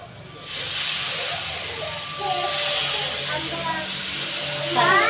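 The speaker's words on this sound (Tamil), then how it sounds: "இப்போ கொஞ்சம் தண்ணி தெளிச்சிடல" Dried anchovies frying in a pan with chilli powder, sprinkled with water so the oil hisses and sizzles loudly and continuously, with a brief higher spatter near the end.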